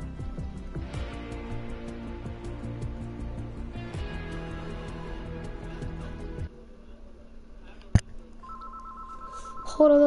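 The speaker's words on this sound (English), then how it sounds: "Hold on, that's my phone calling." In a Fortnite session, a phone rings with a steady electronic tone near the end, after a stretch of in-game music, with faint voices underneath.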